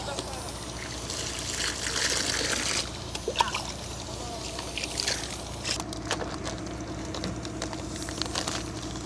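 Water splashes and trickles steadily against a busy outdoor background, with scattered drips and patters throughout, as plants are watered on a small fruit farm.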